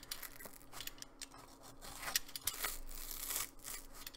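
A blade carves through a Flexfoam foam head, giving soft, irregular scraping and tearing strokes that rise and fall close up, with no voices.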